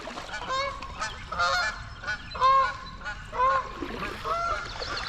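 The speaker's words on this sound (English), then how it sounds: "Geese." Geese honk repeatedly along a river, loud nasal calls in uneven bursts from several birds, some close and some farther off, over a low outdoor background.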